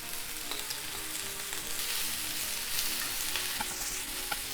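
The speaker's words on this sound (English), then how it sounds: "after about 2 minutes of frying and the vegetables have been kind of halfway cooked" Vegetables stir-frying in a hot pan for Japanese yaki udon, a steady dense sizzle with scattered crackles and pops from stirring, close and loud throughout with no talking.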